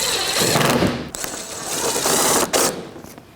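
Bolts are driven back into the bumper cover of a 2006-2012 Toyota RAV4 during alternator replacement, a steady ratcheting whir running close and loud with two brief pauses, no talk.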